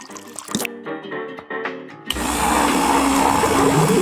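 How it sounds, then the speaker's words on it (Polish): A blender whirs loudly as a sweet drink of cotton candy and water is mixed, starting after some clinking and handling sounds, then running steadily and close. "Wszystko dobrze mieszamy."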